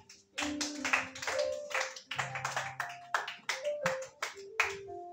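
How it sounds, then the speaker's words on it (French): A church congregation applauding during a worship service, a close, steady run of hand claps in uneven rhythm, some voices audible underneath. "Acclamez quand même"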